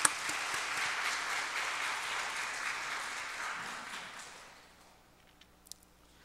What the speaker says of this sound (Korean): 우리 박수를 하나님께 드리겠습니다